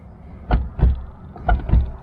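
Driver door of a Jeep XJ with a worn hinge, moved back and forth: four short clunks and creaks in two pairs, close and fairly loud, with no talking.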